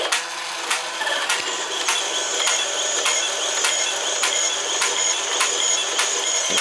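An Imaginext Fisher-Price dragon toy's spinning mechanism whirs steadily, with evenly spaced clicks repeating about every half second, close and fairly loud.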